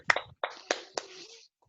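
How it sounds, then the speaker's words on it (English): A handful of people on a video call clap for the NHS, giving a few sharp, distinct claps. The sound is faint and close, with short gaps between claps, and then stops. "I think we should clap for the NHS"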